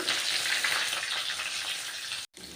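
Onion added to hot oil with popped mustard seeds for a fish curry, producing a loud, dense, continuous sizzle up close, briefly cutting out near the end before resuming.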